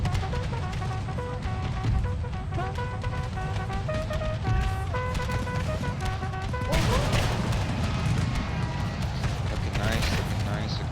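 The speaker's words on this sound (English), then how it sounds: "Independent Blues still laying down some cover fire." Massed musket volleys of infantry cover fire in an Empire: Total War American Civil War battle, a dense, continuous crackle of shots with sharper bursts near the end, laid over a steady background musical score.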